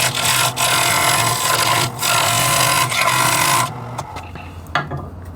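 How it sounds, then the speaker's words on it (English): A skew chisel cuts a dovetail into a spinning wood blank on a WEN 3424T mini wood lathe, giving a steady close scraping rasp that breaks off near the end into quieter, sparse scratches. "here I'm going to switch to a skew. Cut a dovetail in it just to help it hold in the chuck better."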